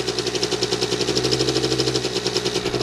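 A child's small quad ATV engine runs steadily at idle after starting, with a fast, even pulsing chug and a buzzy high rattle throughout, close and fairly loud, with no talk; it idles without much power.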